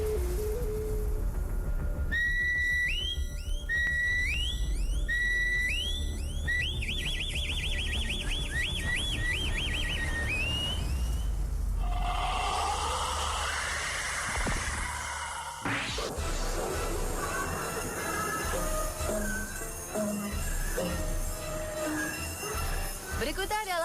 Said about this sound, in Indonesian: peluit kematian.